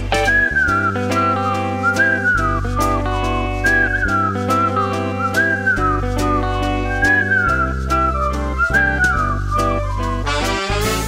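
A whistled melody runs through a performance of an Estonian spring song, with a female soloist. The bright, lilting phrases repeat over a steady band accompaniment with bass and drums.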